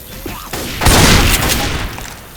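Loud, dense gunfire from Left 4 Dead 2 on the Hard Rain map, a sustained burst of overlapping shots and booms that swells midway and stays heavy to the end, with no talk over it.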